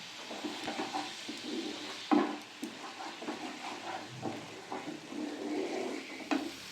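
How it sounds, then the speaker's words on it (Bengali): Ground coriander, cumin, turmeric and Kashmiri chilli powder fry in a pan for palak paneer while being stirred, with soft sizzling and intermittent scraping and clinks of a spoon; no voices. "ভালো করে মশলাটা কষিয়ে নেব"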